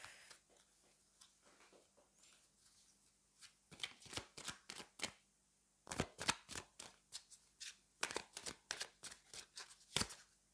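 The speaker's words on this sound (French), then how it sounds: "je vais prendre des cartes du Petit Lenormand" Petit Lenormand cards shuffled by hand in quick riffling bursts, crisp papery flutters coming in clusters with short pauses between, close and fairly quiet, with no voices.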